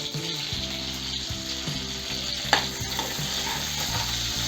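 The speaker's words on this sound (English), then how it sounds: "Fry the garlic and shallots." Garlic cloves and peeled shallots frying in oil over a raised flame for a dry fish curry, a steady sizzle and crackle running throughout with rhythmic scraping and clicking of stirring, close and fairly loud.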